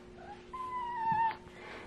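A kitten gives one drawn-out, wavering meow, fairly close, over a quiet indoor room with a faint steady hum underneath.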